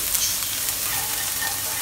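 Garlic and dried shrimp fry in a pan over medium-low heat, giving a soft, steady sizzle and faint crackle that continues evenly and quietly throughout with no talking.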